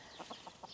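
Backyard chickens clucking softly in a garden among artichokes, four or five short low clucks spaced through a faint, fairly quiet outdoor background.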